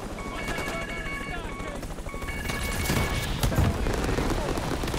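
Rapid gunfire and automatic bursts in the Call of Duty: Black Ops 6 game. Loud, dense volleys crackle over a busy battle din with rumbling booms, and the firing grows heavier toward the end.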